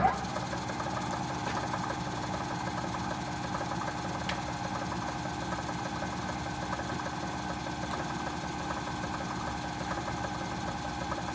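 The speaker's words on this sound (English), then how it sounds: "So I lower my table down. Start my spindle back up." A milling machine spindle starts up in a precision machining shop, then runs with a steady, close mechanical hum and faint rhythmic knocking, with no talking.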